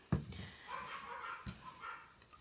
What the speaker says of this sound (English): So I do apologize for their barking in the background.